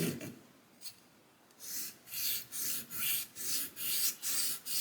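Beauty shears being sharpened on a 1200 grit stone, a run of about seven rhythmic rasping strokes, close and fairly soft, with a few faint scrapes before the steady rhythm begins.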